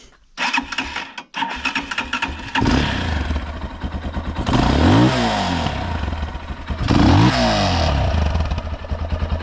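A 2023 Geon X-Road Light 250 motorcycle is started and its single engine catches, settling into a loud, close, lumpy idle with rising blips of revving, no voices over it.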